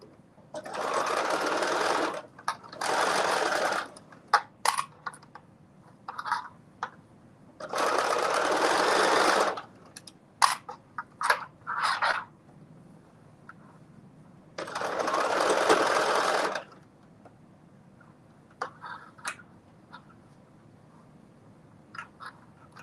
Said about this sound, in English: Again, stitching it in at 5/8 of an inch seam allowance.